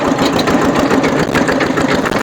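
A modified farm tractor fitted with a rotary tiller runs in second gear, its engine chugging loud and close in a fast, steady, knocking rhythm that never lets up.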